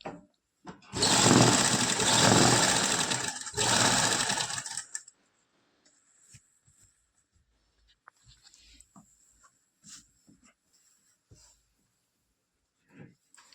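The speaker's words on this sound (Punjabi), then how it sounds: "ਜਿਹੜੀ ਸਲਾਈ ਲਗਾਈ ਆਪਾਂ ਉਹਦੇ ਉੱਪਰ ਸਲਾਈ ਲਗਾਵਾਂਗੇ" A sewing machine stitches over a seam on a collared kurta in one loud, close burst of rapid whirring lasting about four seconds, with a brief pause midway, then quiet handling clicks and rustles.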